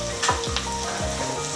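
Ginger, garlic and chilli paste lightly frying in a pan, a close, steady crackling sizzle with a couple of brief stirring scrapes near the start.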